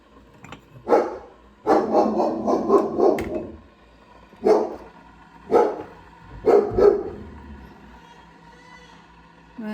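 A dog barks in the morning in several short bursts, some single and some clustered, with quiet gaps between them, close by inside a home.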